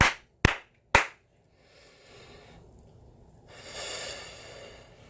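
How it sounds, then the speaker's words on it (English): Three sharp, loud hand claps ring out in quick succession, evenly spaced about half a second apart, followed by quiet breathing and faint room noise. "We're just going to clap 3 times."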